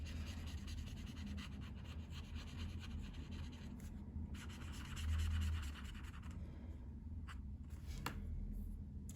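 Soft pink pen drawing on journal paper: quiet, close scratching and rubbing strokes that run continuously, with a few firmer passes and no talking.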